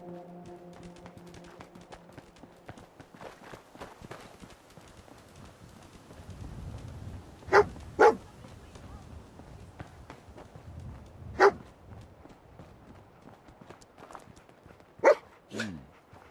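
Dogmeat, the dog companion in Fallout 4, gives a few sharp barks between about 7.5 and 16 seconds over low ambient game noise and footstep-like clatter, with loud single barks spaced out.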